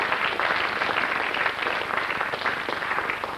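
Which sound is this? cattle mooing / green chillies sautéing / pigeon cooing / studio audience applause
studio audience applause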